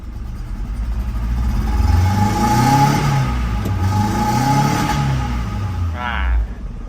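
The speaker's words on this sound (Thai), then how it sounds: "เครื่องเดินไม่เต็มสูบ เครื่องสั่นเร่งสะดุดนะ" A Tata CNG engine, shaking and stuttering under throttle from a misfire, revs up and down in uneven surges with a rough mid-pitched drone, close up, with a mechanic speaking over it.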